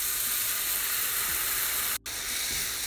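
Onions and tomatoes sizzle steadily in a hot pan, a continuous crackling hiss with a brief dip partway through, close by.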